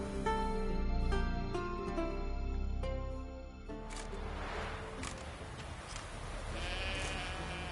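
Sheep in The Witcher 3 bleat repeatedly in drawn-out, wavering calls, loud and close over a quieter outdoor game ambience, with no talking.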